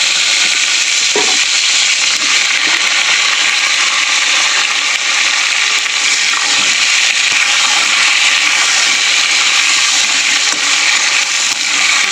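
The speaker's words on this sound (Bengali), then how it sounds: "তো তেলের মধ্যে দিয়ে দেবো গোটা গোটা শিমগুলো" Whole flat beans frying in hot oil give a loud, constant crackling sizzle close by, with faint stirring knocks now and then and no voices.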